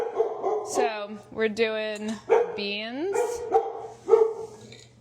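A pet dog barks and yips several times in an apartment kitchen during cooking, sharp close barks breaking through steady talk from a person nearby.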